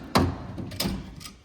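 The hammer drawer of a heavy-truck mechanic's metal tool box is worked open and shut, giving three separate hollow metallic clunks spaced about half a second apart, fairly close, with no talking.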